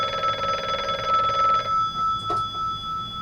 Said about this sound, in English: Or the mysterious phone caller.